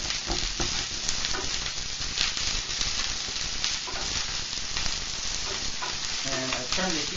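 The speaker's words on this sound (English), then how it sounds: "we're going to go ahead and add our squash and our purple pepper. Mix it in just a little bit." Kale, squash and purple pepper sizzle steadily in a hot pan while being stirred, a dense continuous crackle with occasional scraping, close and moderately loud, with no talking.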